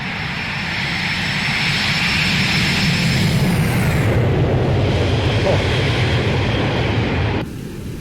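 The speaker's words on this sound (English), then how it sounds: "Flyby. Watch your ears, headphone users. It's going to be loud." A Boeing 727 roars past in a flight simulator flyby, a loud, broad engine roar swelling to a peak and then abruptly cutting lower near the end.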